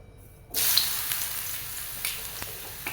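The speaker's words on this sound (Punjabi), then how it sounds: "ਤੇਲ ਜਿਹੜਾ ਆਪਣਾ ਪੂਰੀ ਤਰ੍ਹਾਂ ਗਰਮ ਹੋ ਗਿਆ ਤੇ ਫਲੇਮ ਨੂੰ ਮੈਂ ਬਿਲਕੁਲ ਆਫ ਕਰ ਦਿੱਤਾ ਹੈ ਤੇ ਹੁਣ ਮੈਂ ਇਹਦੇ ਵਿੱਚ ਪਾ ਦਵਾਂਗੀ ਮੂਲੀਆਂ" Cut radishes drop into hot oil with the flame switched off, starting a sudden steady sizzle of frying that carries on up close, with faint stirring clatter and no talking.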